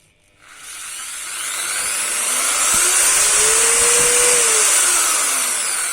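An SG-Plus SGS5141 impact drill starts from silence and its motor spins up at low speed, ramping to a steady, close electric whir that holds for several seconds.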